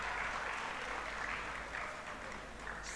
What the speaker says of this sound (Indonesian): Tepuk tangan lagi untuk SMTI.